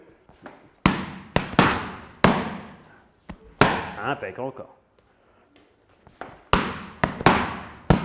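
Sharp boxing punches smack into pads during a Tyson-style combination drill, delivered as quick bursts of two or three hits with short pauses between, while a coach speaks briefly between the strikes.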